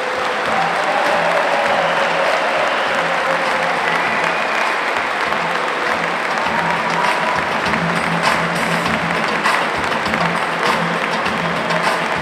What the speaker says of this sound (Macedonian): Би ве замолила за громогласен аплауз за ракометарите Металург